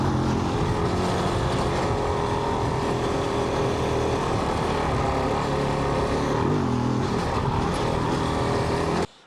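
Kove 450 Rally, a 50-horsepower 450 motorcycle, running steadily under way with a loud, continuous engine drone and wind rush throughout, no voices, cutting off abruptly at the end.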